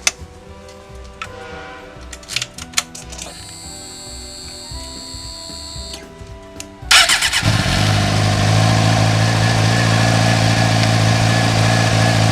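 A Suzuki GSX-R600 motorcycle engine starts after scattered ticking and clicks, then settles into a steady, loud, close idle that runs unbroken to the end.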